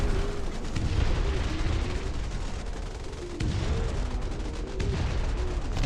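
Howitzer artillery in a video game booms repeatedly as dense, low thuds and rumbling blasts, with a few heavier impacts standing out from a constant din of battle.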